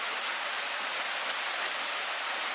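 Steady, dense roar of a waterfall on a rocky cliff at Solokhaul near Lazarevskoye, a constant broadband rush of falling water with no breaks, filling the whole scene.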